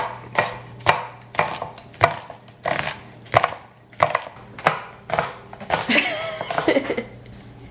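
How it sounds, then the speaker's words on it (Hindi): Onions are roughly chopped on a cutting board for homemade samosa filling, with about ten sharp, evenly spaced knife strikes close by, followed by a looser burst of scraping and chopping at the end. "तो 2 बड़े साइज के प्याज लिए हैं, और इनको रफली चॉप कर लें।"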